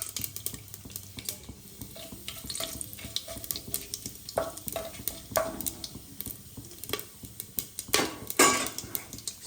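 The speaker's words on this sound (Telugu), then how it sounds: "సాసోలు చిటిపట్లు ఆడిన తర్వాత ముందుగా మనం తీసుకున్న స్పైసెస్ ఇందులో వేసేద్దాం." Spices dropped into spluttering mustard seeds in hot oil, heard as an uneven crackle and sizzle with scattered pops and clinks of a spoon against the pan, fairly quiet and close, no voices.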